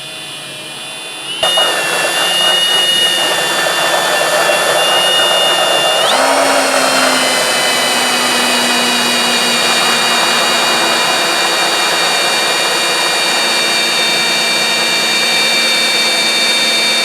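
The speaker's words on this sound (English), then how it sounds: "First things first, I'm going to put the mandrel of the hole saw" A power drill fitted with a hole saw on a mandrel cuts into the plastic hull of a Pelican Mission 100 kayak, starting abruptly and then running as a loud, steady whine and grind for a long stretch.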